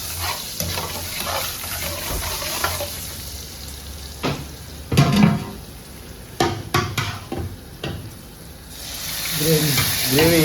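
Butter tadka sizzling in a pan at a street food stall, a steady close frying hiss with stirring scrapes and clanks of utensils, while a voice talks intermittently in the background.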